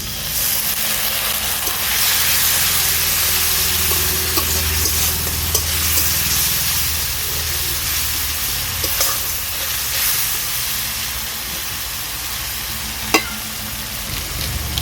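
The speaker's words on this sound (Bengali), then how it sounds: "সামান্য একটু জল দিয়ে দিচ্ছি" Spices with a splash of water sizzle in a pan while being stirred for a soybean and chickpea masala ghugni, a steady broad hiss that runs throughout with occasional sharp pops and clinks.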